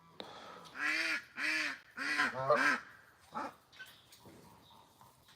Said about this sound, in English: Oh my goodness, you are some noisy ducks.